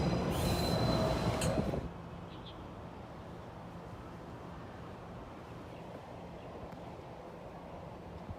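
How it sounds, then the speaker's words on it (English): A train passing near a viewing platform at the Railway Workers' Village in Changhua, Taiwan, loud rumbling with screeching wheel squeal for nearly two seconds, then a steady fainter rolling rumble as it moves on. "There's a train."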